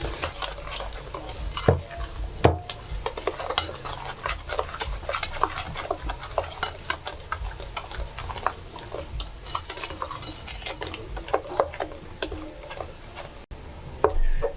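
Batter whisked for a homemade birthday cake, with a steady run of soft ticking and tapping from the utensil against the bowl. Clicks and patters repeat at an uneven quick rhythm, close up and fairly loud, and no one speaks.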